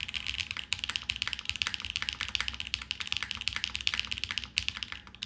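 Someone types rapidly on a Vanguard65 plateless mechanical keyboard, producing a dense, even stream of close keystroke clicks and clacks.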